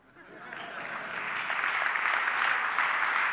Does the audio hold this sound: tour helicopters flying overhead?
no